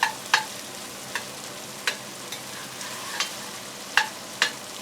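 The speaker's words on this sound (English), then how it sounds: "Then add the chopped onions into the pot. Stir for 2 to 3 minutes." Chopped onions frying in a pot give a steady close sizzle, broken by several sharp scrapes of stirring at irregular intervals, with no voices.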